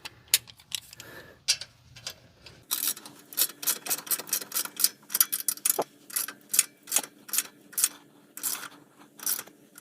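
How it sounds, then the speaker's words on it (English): A ratchet tightens a bolt near a brake line while a rear shock skid plate is fitted, giving close, sharp clicks in quick bursts of repeated strokes with short gaps between them. "tighten that bolt back there from the brake line"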